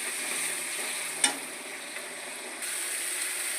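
Spice paste with turmeric and Kashmiri chili powder stir-frying in a pan makes a steady close hiss of sizzling oil, with a single sharp utensil tap partway through.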